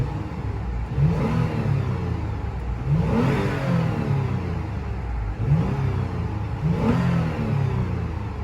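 A 2015 Toyota 4Runner Limited with a 4-liter V6 revs up three times, each rev a swelling, throaty rise that falls back to a steady idle rumble, heard close and without talk.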